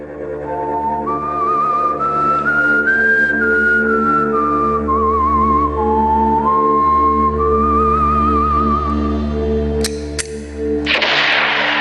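A clear melodic whistled tune in the style of an old western theme, sustained over a droning orchestral backing, ending in a burst of noise.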